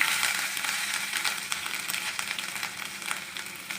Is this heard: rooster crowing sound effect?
no